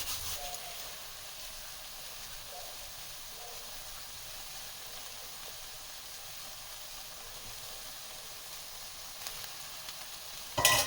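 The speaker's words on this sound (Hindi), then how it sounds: "और अब हम कसूरी मेथी और गरम मसालों को अच्छे से इसमें मिक्स करेंगे सोया भुर्जी में" Soya bhurji with kasuri methi and garam masala being stirred in a hot pan, a soft steady sizzle with faint scraping, quiet and continuous, ending in a brief louder clatter.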